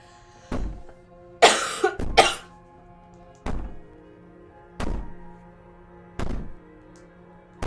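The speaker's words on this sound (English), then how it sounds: "Maybe the banging and wailing will stop if you just don't pay attention to it." Heavy banging in the video game Slay the Princess: about six separate dull thuds spaced a second or so apart, plus a brief rough scraping burst, over a low steady hum with no talk.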